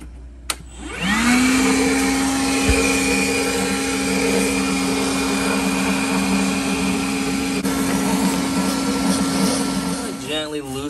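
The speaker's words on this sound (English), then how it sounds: "so first things first, let's do a little vacuum" A vacuum cleaner switches on and runs with a steady high whine while cleaning refrigerator coils, its tone shifting slightly as the nozzle moves, before it cuts off near the end.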